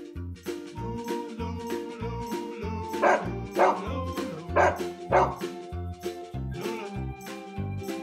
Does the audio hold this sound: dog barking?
yes